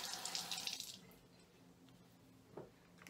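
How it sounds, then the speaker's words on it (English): Water runs from a tap onto a hand towel for about a second, a broad hiss that then cuts off, leaving a quiet room with a faint low hum and a brief squishy handling sound. "our hand towel that we have and get it wet with some soap"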